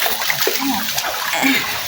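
Water sloshes and splashes in short bursts as someone bathes, close by, with a steady background wash; no talking.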